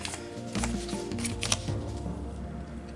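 Scissors cut through the corners of a composition notebook cover along its score lines, giving a few crisp, close snipping and crunching sounds over a light background hum.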